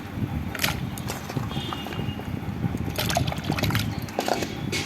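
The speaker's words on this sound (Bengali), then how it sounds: "এর আমটা ভালো করে জলে ধুয়ে নিই" Mangoes being washed by hand in water, close splashing and sloshing with irregular knocks and trickles throughout, no talking.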